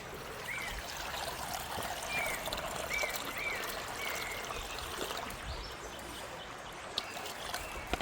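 A little water poured into a vessel while tamarind chutney is made for vada pav, a steady moderate trickle running unbroken for several seconds with no talking.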